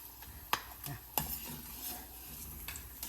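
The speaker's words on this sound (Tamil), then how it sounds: "எண்ணெய் ஒரு மாதிரி சூடானதுக்கப்புறம் சிம்மில் வச்சு பொரிங்கோ" Oil sizzles softly in a pan over a low flame, with a steady gentle crackle broken by a few sharp clinks of a utensil stirring against the pan.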